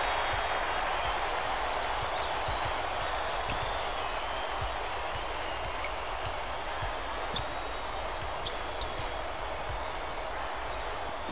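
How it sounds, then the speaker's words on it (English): Steady, dense roar of a basketball crowd filling an arena during a Southern Mississippi at Ole Miss game, continuous and loud throughout with scattered claps and shouts and no clear speech. "This crowd couldn't be any happier. Just listen to the people in this building."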